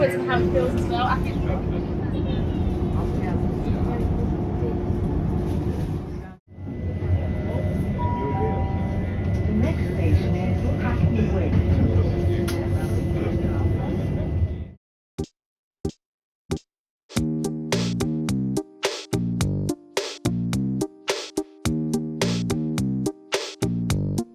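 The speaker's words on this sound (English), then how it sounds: "we're on a train to Hackney Wick" Steady rumbling interior noise of a moving train to Hackney Wick for most of the stretch, then it cuts to loud rhythmic music.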